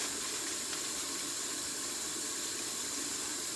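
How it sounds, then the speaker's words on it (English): Water running steadily from a sink faucet as a constant, even hiss, close by, with no talk over it. "I can turn off the faucet with my paper towel and throw my paper towel away on the way out"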